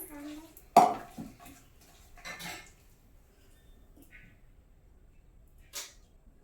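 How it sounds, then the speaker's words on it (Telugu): Onion pakoda batter is mixed by hand in a bowl, giving a few scattered clinks and scrapes against the dish with long quiet gaps between them, close but soft. "ఇలా బాగా మిక్స్ చేసుకోవాలి"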